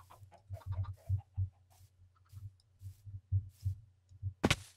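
Minecraft chickens cluck in short soft bursts, with several quick clucks repeating in an uneven rhythm and a brief sharper sound at the end, and no speech.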